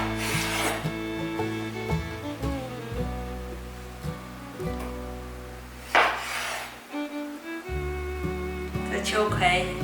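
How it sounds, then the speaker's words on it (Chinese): A knife slices small okra pods on a cutting board. A few sparse, crisp chops and scrapes sound close by over louder background music. "先把秋葵的蒂头切掉。 这里再斜切成段"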